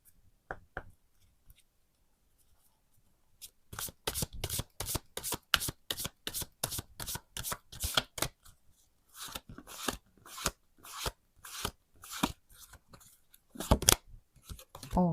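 Lenormand cards are shuffled in rapid papery bursts, a few quick riffles at first, then a long run of crisp, evenly spaced slaps and flicks close by, with no talk.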